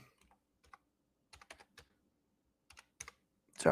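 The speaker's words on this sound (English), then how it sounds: "I'm typing, so it's hard for me to." Computer keyboard typing up close during a live stream: short irregular bursts of key clicks separated by pauses, with a louder clatter at the end and no talk.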